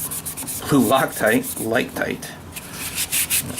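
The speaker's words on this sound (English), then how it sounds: "Wipe down my excess blue Loctite." A cloth rubs over a Ruger 10/22 scope mount to wipe off excess blue Loctite. Several close, scratchy strokes in a row, with faint sounds in the background.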